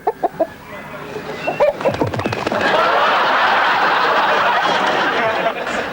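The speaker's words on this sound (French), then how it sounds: "ce coq du Nord réussira à s'échapper" A rooster from northern France clucks in short bursts, then gives a loud drawn-out crow-like call over a noisy outdoor background, close to the listener.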